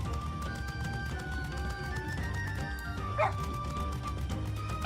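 A dog in the game Final Fantasy XIV Dawntrail gives a short yip-like bark, heard once and fairly faint beneath game music and town ambience.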